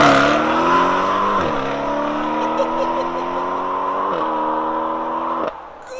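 BMW M850i with a 4.4-litre twin-turbo V8 and double X-pipe exhaust accelerating hard, a deep rising roar that climbs through two gear changes, loud and close.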